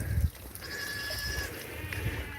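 Nigerian Dwarf goat kids bleat faintly in the distance, a few thin, drawn-out calls over quiet background noise.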